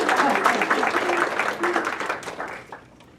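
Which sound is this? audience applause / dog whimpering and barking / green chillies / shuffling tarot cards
audience applause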